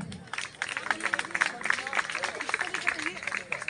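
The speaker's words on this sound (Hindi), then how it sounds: "तालियां बजाएं भाई" Audience applauding at an ITI convocation ceremony in Barwala, a dense, steady patter of many hands clapping throughout, with voices talking over it.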